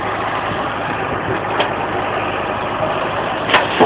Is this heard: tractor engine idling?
yes